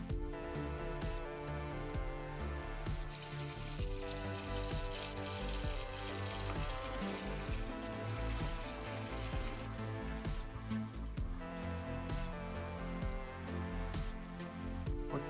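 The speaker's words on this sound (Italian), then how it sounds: "e adesso riempiamo d'acqua." Water pours steadily into a 180-litre natural river aquarium being refilled, a continuous quiet rushing and splashing with no talk, accompanied by faint background tones.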